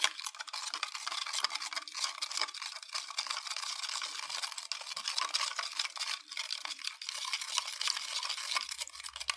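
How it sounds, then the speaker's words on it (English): A spoon scrapes and swirls briskly in a cup of Doctor Dreadful berry-flavored powder mix, a continuous close gritty scratching with small clinks, no talking over it. "Alright, let's give this a stir"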